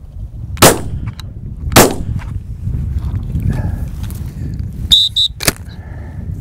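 Two sharp, loud shotgun blasts roughly a second apart while hunting birds over a dog in open country, followed by rustling and a couple of fainter clicks and sounds.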